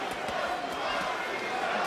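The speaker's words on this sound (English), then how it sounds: "Crowd chanting Mauricio." Boxing arena crowd at the Johan Perez vs Mauricio Herrera bout chanting Mauricio, a loud steady roar of many voices with rhythmic pulses and low thumps, unbroken from start to end.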